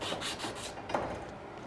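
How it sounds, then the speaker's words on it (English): Wet sanding of a dirty pipe, with soft, quick rubbing strokes close by at low volume and no talking. "Doing a little wet sanding, clean up that pipe."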